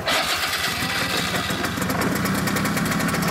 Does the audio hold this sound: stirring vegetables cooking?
no